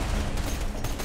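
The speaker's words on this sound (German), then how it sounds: "Jo, mein Auto explodiert gleich." In the video game Borderlands 2, a car explodes amid chaotic gunfire-like bursts, producing a short, loud, crackling blast of noise heard close up.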